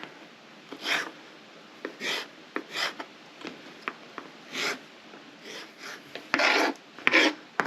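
Knife slicing fresh tomatoes on a board for salsa, a string of short rasping cuts in an uneven rhythm, close and fairly quiet, alone without voices.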